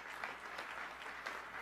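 Audience applause for Governor Doug Ducey's inaugural speech on Arizona education, a steady dense patter of many hands clapping throughout, moderately loud with no voices over it.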